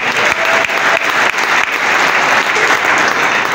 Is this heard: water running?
no